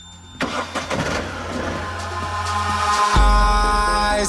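An Ashok Leyland Dost LS truck with a 1478 cc, 70 HP engine starts with a sharp crank and settles into a steady, close medium-pitched idle that grows fuller toward the end.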